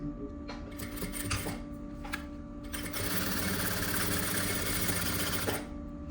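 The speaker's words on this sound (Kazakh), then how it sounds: "Енді осыны келесі жағына тігіс түсіреміз." A sewing machine stitches a seam on a child's vest, whirring steadily with short pauses before a longer continuous run, close by with no voices.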